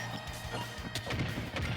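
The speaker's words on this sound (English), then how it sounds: "we're going to smash that crafting table with those down smashes" Down smashes striking and breaking a crafting table in a Super Smash Bros. tournament match, a run of sharp crashing hits and thwacks over steady game noise, loud and close, no talking.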